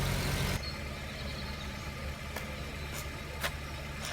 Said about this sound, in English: whilst the engine is running